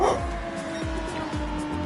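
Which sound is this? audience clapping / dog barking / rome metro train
dog barking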